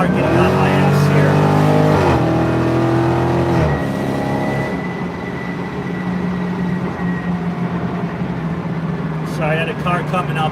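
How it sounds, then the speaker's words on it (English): Road and engine noise from inside a moving car, with a rising engine tone and traffic rumble; another vehicle closes in quickly from behind, and a voice talks over it. "I got a car getting on my ass here"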